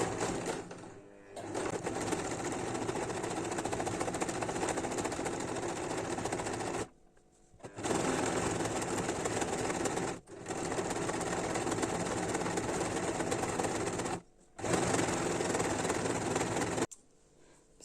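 Sewing machine stitching the pieces of a tubeteika skullcap, running in long steady whirring bursts with brief pauses between seams, close and loud.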